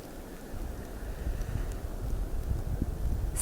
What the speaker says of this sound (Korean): 걸음을 멈추고 바람 소리를 녹음한다